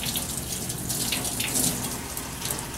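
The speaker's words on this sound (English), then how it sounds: "rinsing all the way up to our elbow, never letting the water run back down to our fingers" Water runs steadily from a faucet into a sink as arms are rinsed during a veterinary surgical scrub, a continuous close splashing hiss with no talking.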